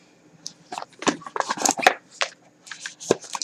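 Tarot oracle cards are shuffled by hand up close: quick, uneven bursts of papery riffling and flicking in a quiet room.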